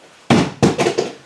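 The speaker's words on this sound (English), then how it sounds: "It's the sound of your cannons firing." Ship cannons fire in the pirate game Black Seas: two sharp, loud booms in quick succession, the second followed by a rumbling tail, with no talking.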